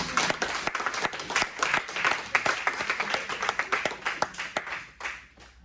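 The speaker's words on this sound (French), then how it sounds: "Alors acclamez-le encore." A church congregation applauds together, dense sustained clapping that keeps a steady rhythm before thinning out and fading toward the end.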